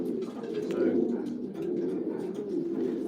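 Racing pigeons in a loft coo steadily in a soft, continuous low murmur, close by, with a faint voice occasionally underneath.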